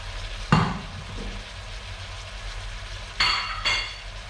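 Onion hits hot oil in a pan for Turkish-style macaroni with minced meat, bursting into a sharp sizzle, then a low steady frying hiss with a couple of later bursts of stirring and clinking.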